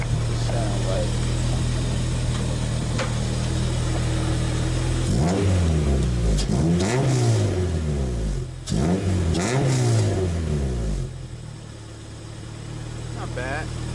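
An H22-swapped EG Civic hatchback fitted with a Vibrant muffler idles close by, then blips through a series of sharp revs in the middle before falling back to a quieter idle.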